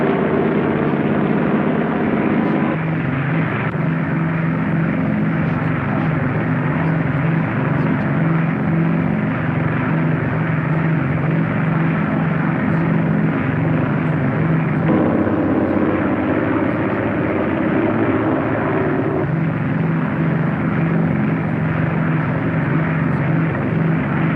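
A propeller aircraft on a ground-controlled approach, steady and loud from start to finish with a constant low engine drone and broadband roar, no break in the noise, landing at an air base in a 1950 Cold War setting.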